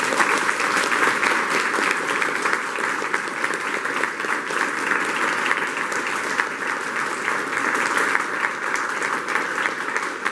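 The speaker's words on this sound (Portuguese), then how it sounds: "salve de palmas pro Pablo" Sustained applause from a seminar audience at a Brazilian jiu-jitsu gym in Caraguatatuba, a dense steady wash of clapping holding at even loudness throughout with no pauses.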